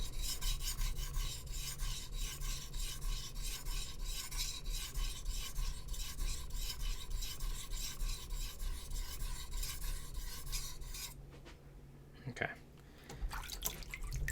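A Japanese boning knife scrapes over a wet whetstone in fast, even back-and-forth rasping strokes for several seconds, then stops, leaving a few faint taps and a little clatter.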